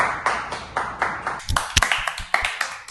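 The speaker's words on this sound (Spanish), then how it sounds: "Un gran aplauso." Audience applause with a small group clapping steadily and closely, individual hand claps clearly separable, continuing throughout at moderate loudness.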